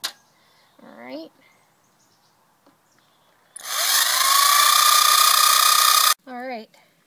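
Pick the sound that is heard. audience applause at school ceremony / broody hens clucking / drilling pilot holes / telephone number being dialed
drilling pilot holes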